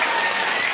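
A studio audience claps on a Russian-language television talk show, a dense, even burst of applause heard for less than a second.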